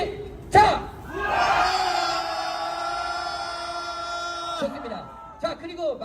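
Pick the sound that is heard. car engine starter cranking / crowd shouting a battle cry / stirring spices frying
crowd shouting a battle cry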